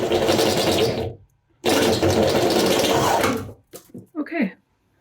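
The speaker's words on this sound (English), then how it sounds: "we're going to show you how we drill one of these holes out" A step drill bit bores a hole during a van bed installation, giving two loud, close bursts of whirring drill noise separated by a short pause, followed by brief voices.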